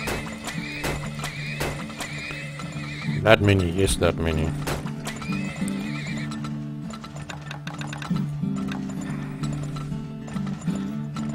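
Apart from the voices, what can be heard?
horses neighing and clopping in Turmoil video game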